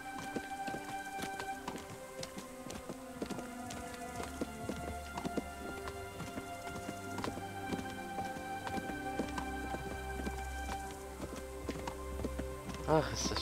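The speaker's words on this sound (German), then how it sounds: "Wir reiten dahin. Ich find's einfach toll, dass ich jetzt endlich mein eigenes Pferd habe." Hooves clip-clop in a steady trotting rhythm as a horse is ridden in Kingdom Come: Deliverance, mixed with background game music and someone talking over it.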